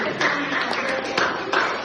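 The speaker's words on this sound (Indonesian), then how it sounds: "Tepuk tangan lagi." Students in a microteaching classroom give a round of applause, quick light clapping of many hands at moderate level with voices mixed in underneath.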